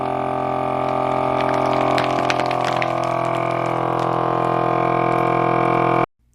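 A Potane Precision vacuum sealer machine's steady motor hum drones loudly and continuously for about six seconds, then cuts off abruptly.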